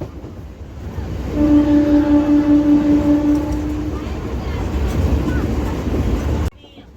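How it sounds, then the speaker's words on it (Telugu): A passenger train on a journey makes a low, constant rumble, with a sustained horn-like tone for a few seconds before the sound cuts off abruptly near the end. "ట్రైన్ జర్నీ అనమాట."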